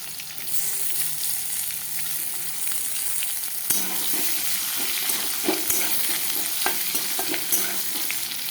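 Potatoes and pointed gourd fry together in a pan, a continuous sizzle with scattered scraping and stirring clicks that grow more frequent toward the end, close by and without speech.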